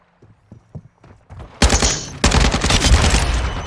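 Call of Duty: Modern Warfare II gunfire starts as a few soft, scattered thumps, then breaks into loud, close sustained bursts of rapid automatic fire with no speech.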